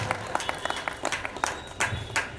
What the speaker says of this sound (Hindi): ताली कम पड़ रही है, मजा नहीं आ रहा है।